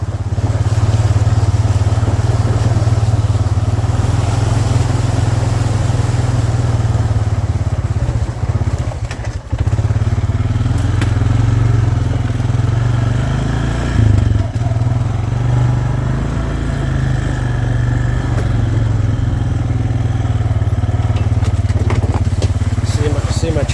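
A four-wheeler ATV engine runs steadily on a homestead, a close, loud low drone that idles and rides with little change and a few brief dips.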